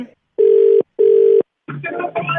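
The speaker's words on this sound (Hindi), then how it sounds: "मैं फोन कर रहा हूँ आपके हस्बैंड" Two long, steady telephone ringing tones sound close and loud with a short gap between them, then a voice answers on the line.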